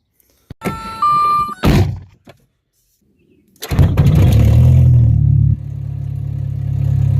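A VW Mk3 engine, fresh from a fuel filter replacement, is started after a few sharp clunks and a short electronic chime: a brief pause, then the starter catches and the engine settles into a steady, close idle.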